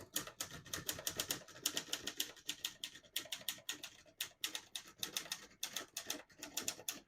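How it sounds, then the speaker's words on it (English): Rapid typing of a sentence on a 1963 Olivetti Lettera 22 portable manual typewriter with elite typeface, a steady run of crisp, close key strikes in quick bursts with brief pauses, no talking. "So on this next line, I'm just going to type a sentence."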